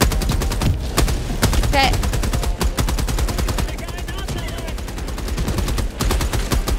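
Helldivers 2 combat with a rapid, steady stream of autocannon-style shots hammering in fast rhythm throughout, plus occasional louder blasts, loud and close; a voice speaks briefly.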